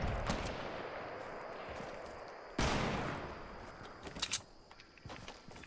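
Scattered gunfire during a Fortnite match: one sharp loud shot followed by a few quicker, fainter pops and shuffling movement over steady game ambience.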